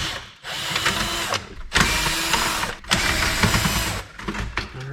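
A power drill backs stainless steel screws out of an on-demand hot water heater being scrapped, in three loud, close whirring bursts separated by short pauses.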